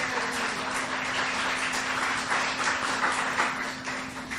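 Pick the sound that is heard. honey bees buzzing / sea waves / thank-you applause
thank-you applause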